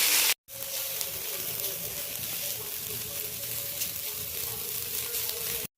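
Neem flowers sizzle and crackle in a frying pan, a steady close hiss after a brief gap at the start, with no talking.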